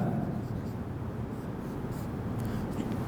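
A pen or marker scratches and scrapes steadily across a board during a Turkish grammar lesson, a continuous close writing sound with faint breathy noise.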